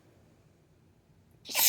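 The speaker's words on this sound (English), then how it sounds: "Hold on, I have to sneeze." A person sneezes once, abruptly and loudly, at the end of a quiet stretch with faint room noise.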